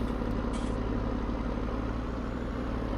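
A Case IH Puma tractor idles in Farming Simulator 19, a constant even drone of engine hum that holds steady throughout with a brief faint high whine early on.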